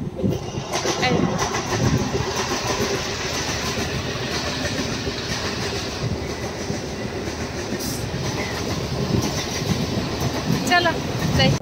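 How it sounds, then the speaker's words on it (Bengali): A train rumbles past close by with continuous wheel noise and clickety-clack on the rails, loud and steady for about eleven seconds, with faint voices in the background. "ট্রেন আসছে, ট্রেন।"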